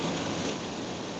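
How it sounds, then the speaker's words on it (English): Rain falls steadily as a soft, even hiss of broadband patter, faint and continuous with no distinct drops standing out and no voices. "Yeah, it just started raining."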